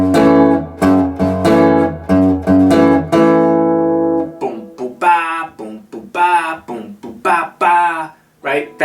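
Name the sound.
guitar playing the chorus of a song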